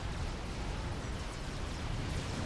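Artillery strike explosions in the real-time strategy game Supreme Commander, a dense continuous rumble of blasts at low volume, with no clear separation between individual impacts.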